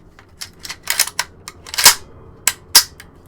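An AK rifle undergoing a function check after a spring replacement gives a series of crisp metallic clicks and snaps from the trigger and action, irregularly spaced, close and loud against a quiet background.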